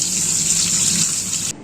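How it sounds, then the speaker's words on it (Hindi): Cold tap water gushes steadily over boiled noodles being rinsed in a kitchen sink, a loud, close hissing stream that cuts off abruptly near the end. "अब इसको हम ठंडे पानी से धो लेंगे"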